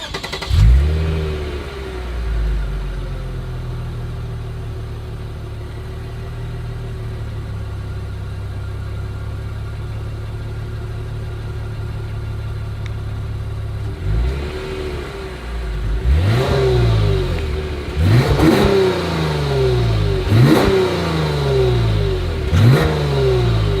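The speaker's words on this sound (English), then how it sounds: "As always, here is that exhaust clip." A Lexus IS F-Sport idles with a steady low exhaust drone, then its engine is revved several times in quick succession, each rev rising sharply and falling back, heard up close and without talk.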